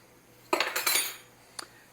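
Dishes and cutlery clatter during kitchen cleaning in a short cluster of clinks and knocks, followed by one more faint clink, somewhat distant and without talk.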